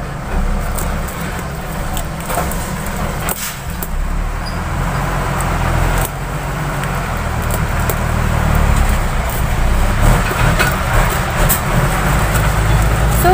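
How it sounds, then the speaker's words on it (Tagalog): Trucks and dump trucks passing along a roadside, a continuous rumble of heavy engines and tyres that swells louder toward the end as a vehicle draws near. A voice talks over the noise at times. "ang ingay, palibas sa tabi ako ng kalsada, may mga dumadaan ng mga truck, o kaya ay dump truck"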